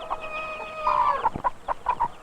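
Chickens clucking in short bursts, with a rooster's drawn-out call running through the first half; fairly close and moderately loud.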